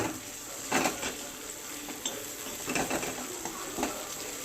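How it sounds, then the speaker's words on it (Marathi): A spoon stirs soaked, broken kurdai into vegetables in a pan for a Khandeshi dish. Scattered scraping clinks and soft shuffling repeat irregularly over a faint background hiss, with no voices. "जे मोडून ठेवलेली कुरडई आहे तिला यात टाका, छान मिक्स करून घ्या।"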